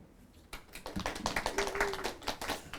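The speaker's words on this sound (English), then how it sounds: "that's the last of the clapping" Scattered claps from a small newsroom class, sharp irregular taps rising into a brief burst of clapping at close range, with a faint voice or tone briefly underneath.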